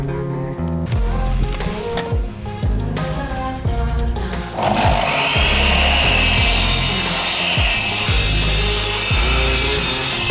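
Kapur camphor wood panels being sawn, with rhythmic rasping strokes up close, then a denser, louder continuous cutting sound for the second half.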